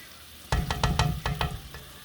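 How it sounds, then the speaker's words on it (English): Butter and bread for a grilled cheese sandwich hitting a hot frying pan, a sudden sizzle starting partway in with several sharp crackling pops over a steady frying hiss, close and fairly loud. "Sizzling."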